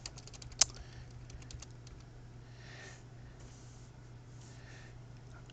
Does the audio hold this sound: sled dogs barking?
no